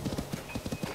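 Game horse hooves in Legend of Zelda: Tears of the Kingdom clop in a brisk, even trot, close and clear, with a faint game tone and a soft voice in the background.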